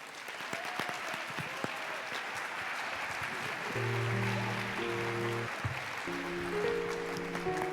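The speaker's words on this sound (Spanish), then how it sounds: "Lo recibimos con un fuerte aplauso" Audience applause at a secondary school evangelical churches day event, a steady broadband clatter of many hands that runs throughout, with sustained musical tones entering partway through and no talk over it.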